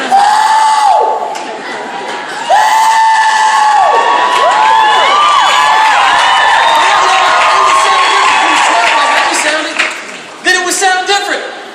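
A crowd performs the Confederate rebel yell, many high wavering whooping voices rising and falling together, loud and sustained for several seconds before breaking into scattered shouts near the end.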